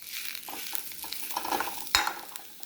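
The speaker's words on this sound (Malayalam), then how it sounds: "ഈ കളറാകുമ്പോഴത്തേക്ക് നമുക്ക് ഉരുളക്കിഴങ്ങ് പൊടിച്ചത് ചേർത്ത് കൊടുക്കാം" Mashed potato being stirred into a frying paste for chicken cutlet, a steady scraping and sizzling in the pan with a sharper scrape of the spoon near the end, close and with no speech.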